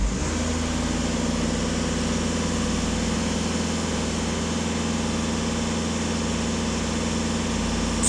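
Skoda Octavia 2.0 TDI with the EA288 diesel engine held at 2500 rpm, a steady droning hum with a constant low rumble and no change in pitch, heard close and alone.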